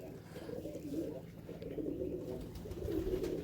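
Pigeons in a loft coo in low, rolling, repeated phrases at a steady moderate level, with a soft constant hum running underneath.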